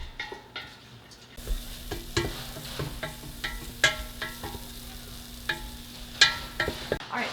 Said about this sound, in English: while the onion and garlic was sauteing here in that stock